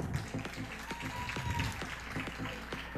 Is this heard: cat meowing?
no